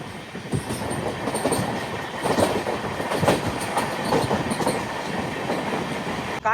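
The Seshadri Express with a new LHB rake runs on tracks near Kakinada, a continuous loud rumble with rhythmic clickety-clack wheel beats and faint squeal, no voices.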